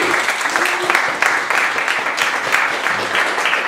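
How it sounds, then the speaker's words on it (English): A crowd applauds at an open mic and open stage night, a loud, fairly close burst of clapping that runs throughout with voices and cheers underneath. "give him a round of applause as well"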